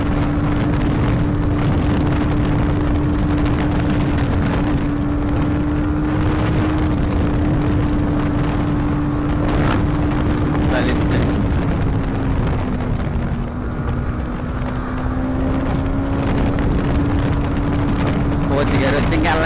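A 2023 Bajaj Pulsar NS200 motorcycle rides at speed in fourth gear, its engine a steady, loud drone that dips slightly and rises again, mixed with constant wind buffeting.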